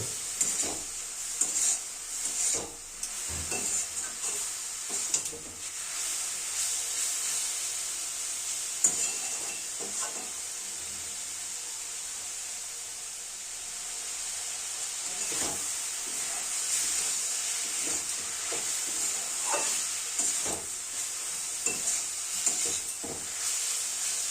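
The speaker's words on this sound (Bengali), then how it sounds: "অল্প আছে শাকটা ধীরে ধীরে নাড়াচাড়া করতে থাকবো" Khesari greens cooking in a pan, a continuous soft hiss and sizzle with intermittent stirring scrapes and clicks throughout.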